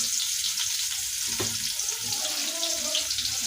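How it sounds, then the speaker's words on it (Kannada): Medium-cut onion dropped into hot oil in a pan gives a continuous, moderately quiet sizzle and hiss with some faint clatter, and no talk over it. "ನಾನು ಮೀಡಿಯಮ್ ಸೈಜಲ್ಲಿ ಕಟ್ ಮಾಡಿರುವಂಥ ಉಳ್ಳಾಗಡ್ಡಿನ ಹಾಕೊಳತ್ತೀನಿ ರೀ"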